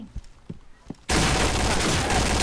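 Gunfire in the video game Point Blank bursts in suddenly after a second of quiet clicks, becoming a loud, dense and continuous volley.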